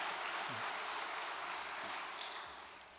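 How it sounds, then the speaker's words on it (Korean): A church congregation applauds in a broad, steady wash of clapping that fills the space for several seconds, then eases off slightly toward the end. "감사의 박수를, 감축의 박수를 보내십시오."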